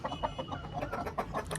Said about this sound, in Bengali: এই যে আমার বিনিজুটির মোরগ